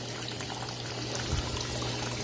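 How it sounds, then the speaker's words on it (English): Liquid detergent is poured into a Laundry Alternative Poseidon washing machine, a brief close glugging pour with a low thud partway through and no talking. "And you can just pour the detergent in the dispenser, or if you prefer, you can pour the detergent straight in the tub."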